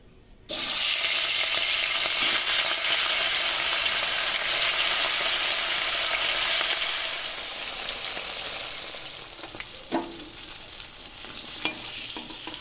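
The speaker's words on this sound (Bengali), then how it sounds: "লবণ হলুদ মাখিয়ে রাখা মাছ ভেজে নেব" Rohu fish rubbed with salt and turmeric sizzles loudly in hot oil after an abrupt start, a steady crackling hiss that gradually softens, with a few faint clinks near the end.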